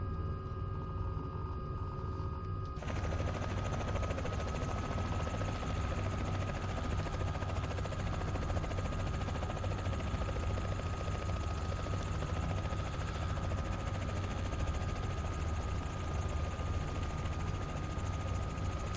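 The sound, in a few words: Robinson helicopter engine in a flight simulator video game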